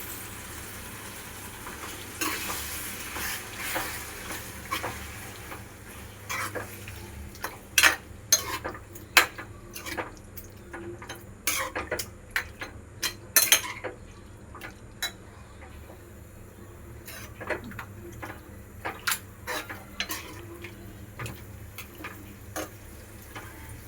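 Chicken curry being stirred in a cooking pan, with a spoon clinking and scraping against the metal in irregular, fairly close taps over a low steady background hum.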